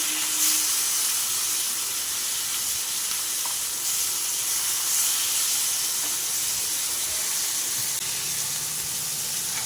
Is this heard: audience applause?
no